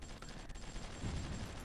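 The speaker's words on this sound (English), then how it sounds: "Still a lot of explosions going on here." Explosions and gunfire in a BattleGoat strategy video game crackle as a dense, continuous barrage of muffled bursts and rattling shots at a fairly low level, with no voices.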